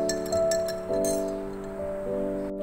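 A spoon stirs tamarind and plum juice in a glass, giving a few light, bright clinks against the glass over steady background music.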